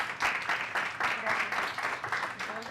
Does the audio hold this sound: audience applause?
yes